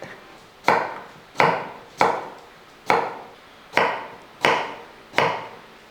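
Elephant foot yam being cut with a knife on a board, seven sharp, evenly spaced chops, each a crisp thud with a short fading tail, close and clear with no talk.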